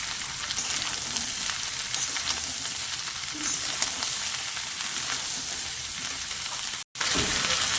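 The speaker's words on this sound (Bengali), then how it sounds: "এটাকে খুব ভালো করে আমি নাড়াচাড়া করে নেব। তার সঙ্গে দিয়ে দিলাম কিছু মটরশুঁটি" Prawns, potato and peas frying in a pan for a bottle-gourd and prawn dish: constant close sizzling and crackling with soft stirring scrapes, one brief dropout near the end, no speech.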